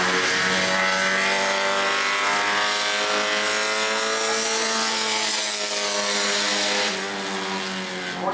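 Scott Tyler's number 27 Orlando Auto Body bomber race car runs a qualifying lap at New Smyrna, a loud, sustained engine drone that holds steady and eases slightly near the end.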